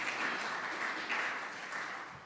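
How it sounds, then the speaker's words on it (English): Audience applause at a university day celebration, a continuous wash of fairly distant clapping, steady and faint throughout with no single claps standing out. "So let's have a round of applause for Mies Society."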